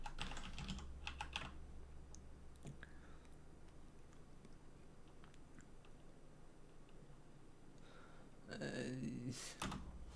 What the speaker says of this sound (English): What was I going to type in now?